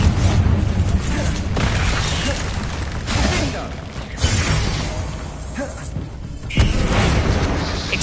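Confringo blasting spells explode in Hogwarts Legacy combat, a series of heavy booms and bursts spaced a second or two apart, mixed with a voice shouting over the fight.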